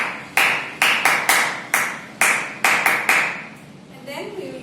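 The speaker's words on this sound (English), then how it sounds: "First we do the clapping pattern." Children clap in a rhythmic pattern at circle time, about ten sharp, close claps in uneven groups, followed by a short stretch of talk.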